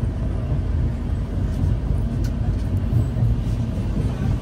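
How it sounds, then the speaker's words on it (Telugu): Navajeevan Express running on after leaving Ongole, a steady low rumble of the moving train heard from on board, continuous and even with no voices. "ట్రైన్ అయితే స్టార్ట్ అయిపోయింది ఒంగోలు నుంచి."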